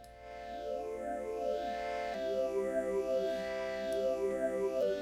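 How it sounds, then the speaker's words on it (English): A basic wave synth run through a phaser plays sustained notes, its tone sweeping up and down in repeating whooshing swirls, steady and fairly loud with no voices. "basic wave synth with a phaser on it"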